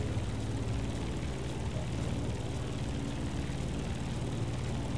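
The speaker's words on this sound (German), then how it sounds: "Also Flugzeug fliegen ist echt schwieriger geworden" Airplane flying in the video game The Crew Motorfest: a steady, moderately loud propeller engine drone holds without a break and with no speech.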